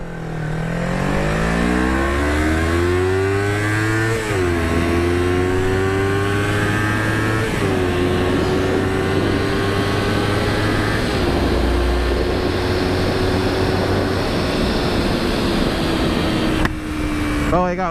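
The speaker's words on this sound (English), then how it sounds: "what I'm riding right now is a 1999 Kawasaki Ninja 250" A 1999 Kawasaki Ninja 250 motorcycle drones steadily while riding, its engine pitch climbing through gears with brief dips at each shift, constant wind noise over it.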